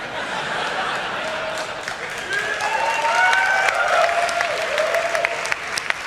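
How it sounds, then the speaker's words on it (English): Audience applause fills a theater at the Ubisoft E3 2014 press conference, a continuous wash of many hands clapping that swells toward the middle, with faint voices and chatter mixed in. "Everybody clapping is in the back of the theater because they were late."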